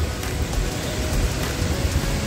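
Steady, dense rain pours down at outdoor hot spring tubs in Pucón, Chile, during cold winter weather, a loud, constant hiss with no break.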